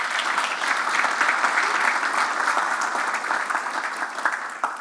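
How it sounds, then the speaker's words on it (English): Sustained audience clapping at an annual academic conference, a full, even roar of many hands that carries on without a break, with no voices rising above it. "just start by giving Andy a round of applause for being the first director"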